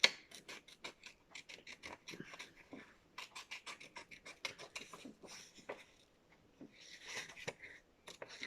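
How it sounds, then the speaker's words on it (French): Large scissors snip and slide through paper while trimming around shapes for a scrapbook page. The cuts come as close, quiet, irregular bursts of crisp rasping strokes, with no talk. "J'ai pas des petits ciseaux, j'ai que des grands ciseaux là."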